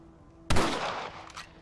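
A single sharp rifle shot from Red Dead Redemption 2 cracks out close and loud, its burst sweeping across the whole range before trailing off into a rumbling echo over about a second.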